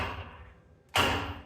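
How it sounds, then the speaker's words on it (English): One hard hammer blow lands on the opposite side of a stuck front driveshaft plate on a 1994 Chevy K1500, a sudden close metallic thud-clang that rings and fades after a quiet lull. "And then I'll rotate it and hit the other side"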